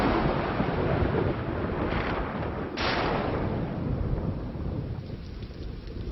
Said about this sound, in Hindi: इतनी मूसलाधार बारिश हुई कि सभी जगह पानी भर गया था।